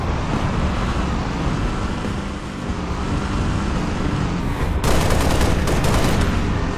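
Gunfire in Halo Reach, a continuous loud roar of weapon fire and battle noise. Rapid machine-gun bursts grow sharper near the end, with no voices over them.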